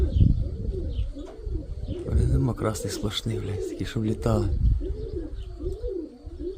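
Pigeons of the Mykolaiv flying breed coo and chirp repeatedly at close range while someone talks over them, with rustling and ambient noise throughout.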